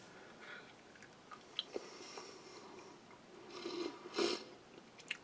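Someone chews soft peppermint gum from a Czech army 24-hour ration. The chewing is faint and close to the mouth, with irregular moist smacks that grow a little louder near the end.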